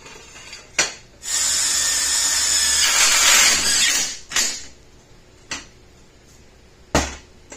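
Power drill driving a self-tapping screw into metal while fabricating a mining rig frame, a loud whirring burst of about three seconds followed by several short sharp clicks and taps.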